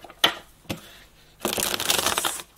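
Tarot cards shuffled for a reading: a couple of quick riffling bursts, then a longer dense papery flutter of cards, close and clear with no talk.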